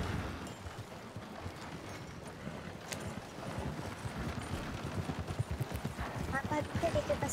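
Horse hooves in the video game RedM clip-clop in a steady, fairly quick rhythm over a low rumbling background, close and moderately loud, with no one speaking.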